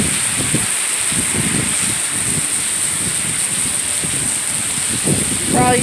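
Heavy rain falling during Hurricane Isaias in 2020 makes a constant, dense hiss throughout, with voices talking faintly underneath.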